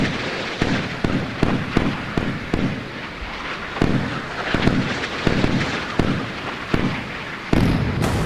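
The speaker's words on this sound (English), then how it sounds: "I think that was bloody radar gunfire that shot that" Radar-guided naval guns fire in Sea Power, a 1990s carrier group battle, with rhythmic heavy booms about every half second to second over a constant roaring background.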